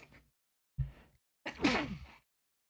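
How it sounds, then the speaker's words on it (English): A single person sneezes during a live game stream, with a short intake breath and then a sharp, loud burst of the sneeze, nearby in an otherwise quiet room. "I gotta sneeze."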